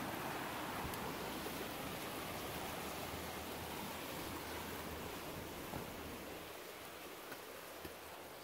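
Steady broadband rush of flowing stream water in a rural countryside setting, continuous and fairly close with no voices over it.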